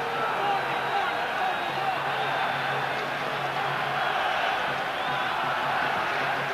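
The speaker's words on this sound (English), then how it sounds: "Now the crowd start to raise their voices as Ireland move on to attack." A rugby stadium crowd at the 1995 Rugby World Cup match between France and Ireland raises a steady, swelling roar of voices as Ireland attack, with a commentator's voice heard over it.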